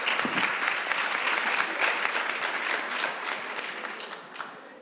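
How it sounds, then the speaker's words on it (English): Sustained applause from a sizable crowd, dense and steady clapping throughout, fading slightly toward the end. "clap for her"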